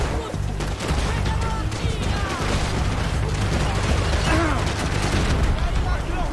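Heavy, continuous gunfire in the shooter Max Payne 3, a dense barrage of shots with booms and mechanical clatter, a voice talking over the combat.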